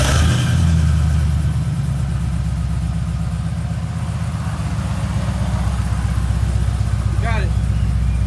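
A car engine cranks, starts and revs after a fuel pump replacement, close and loud, settling into a steady rumbling run with rhythmic pulsing; voices can be heard briefly near the end.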